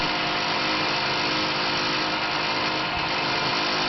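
A Tormach RapidTurn lathe turns steel with a steady, dense mechanical drone, loud and unbroken throughout, with no voices over it.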